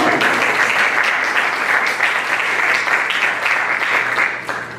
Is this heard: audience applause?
yes